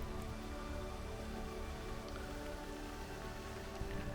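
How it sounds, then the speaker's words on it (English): Rain falls steadily on a garden at Wells Bishop's Palace, a dense, even hiss of drops pattering on leaves and surfaces, constant and close throughout with no voices. "I told you it was raining."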